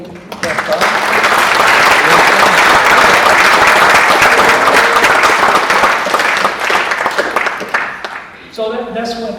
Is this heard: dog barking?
no